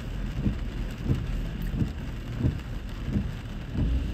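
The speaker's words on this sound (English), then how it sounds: "Raining, raining, raining." Steady rain falls in New Jersey, a dense continuous hiss with soft low thumps of heavier drops and gusts, moderately loud and close, with no voices.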